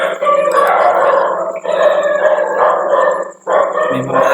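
Several dogs howling outside in long, sustained, wavering cries with brief gaps between, fairly loud and close, heard without talk.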